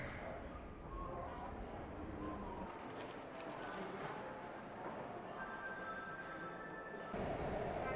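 A metro train from the airport to the south gate of Xi'an's old city rumbles on in a steady, continuous interior drone, with a brief rise in noise near the end and faint voices underneath.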